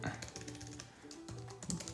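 Typing on a Tasto Folio keyboard case for an iPad Pro makes soft, quick key clicks in an irregular patter, close and fairly quiet, over a faint background hum.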